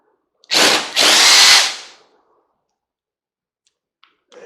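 A power tool with a socket spins out a bolt while scrapping vintage hair curlers, two loud close whirring bursts with a short pause between, followed by silence and a few faint clicks.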